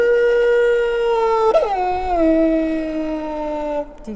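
A voice imitates a wolf howl, one long sustained wavering cry that dips in pitch partway through and trails off, loud and close with no other sound.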